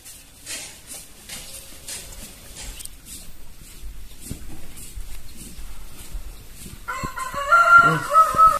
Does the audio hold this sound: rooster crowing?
yes